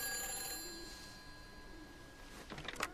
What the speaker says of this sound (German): an der Telefonzelle geht ein Telefon